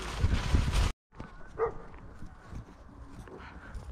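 A dog barks and whimpers briefly outdoors on a countryside ride past a pond, sounding moderately distant amid wind and ambient noise.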